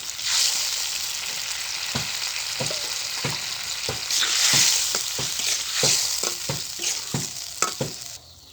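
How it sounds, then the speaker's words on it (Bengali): Big fish pieces frying in a sizzling paste of ground onion, garlic, ginger, cumin and spices, with a continuous close hiss and regular spatula scrapes at a steady rhythm, no speech. "বেটে রাখা পেঁয়াজ রসুন আদা জিরা মশলা কষানো হয়ে গেছে এখন আমি মাছ দিয়ে দেবো"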